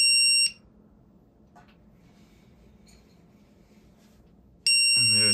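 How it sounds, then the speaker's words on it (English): FPV drone finder buzzer giving loud electronic beeps, one short burst at the start and another about four seconds later, with near silence in between. "It seems like it beeps every 4 seconds"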